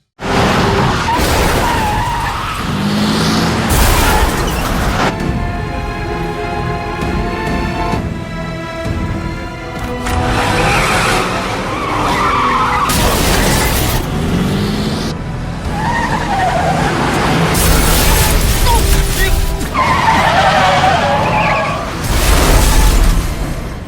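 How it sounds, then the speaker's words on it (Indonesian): A dramatic movie car chase with tires screeching and skidding, engines roaring and heavy crash impacts as one car rams another, loud and continuous, with brief musical swells. "Wong Po yang sedang mengendarai mobilnya ditabrak oleh Chen secara tiba-tiba"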